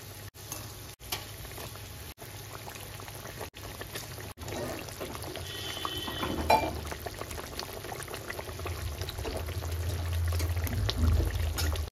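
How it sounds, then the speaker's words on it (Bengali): Fried pabda fish pieces go one by one into a simmering gravy on a low-to-medium gas flame, giving a soft, continuous bubbling with faint splashes and a louder, rising simmer toward the end, no voices. "সমস্ত ভেজে রাখা মাছগুলো এক এক করে দিয়ে দেবো ঝোলের মধ্যে"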